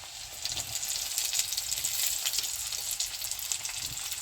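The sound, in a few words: tomatoes added to sizzling onions in a pan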